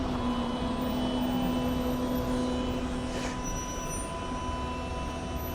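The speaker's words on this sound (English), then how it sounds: "let's land the drone now" A drone descends to land in Acton, London, its motors giving a steady, close buzzing whine with a constant hum that holds through the whole stretch, with no voices.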